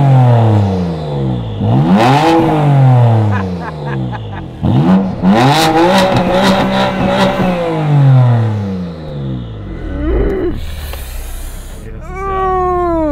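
A 700 PS Manhart-tuned BMW M2 Competition with an export exhaust system is revved hard at rest, roaring through repeated climbing and falling sweeps with loud crackles and pops, then settling before a final rising blip.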